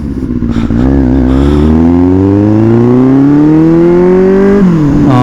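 Close and loud, an inline-four motorcycle engine revs with a rising, smooth whine that climbs steadily before falling off sharply and picking up again near the end.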